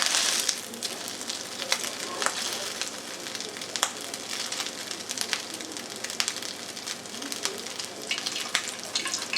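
Eel cakes fry in a pan with a steady crackling sizzle and scattered sharp pops and spits of hot oil, continuous and close, with no talk.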